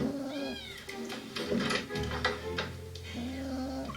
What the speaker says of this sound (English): You forgot your cat.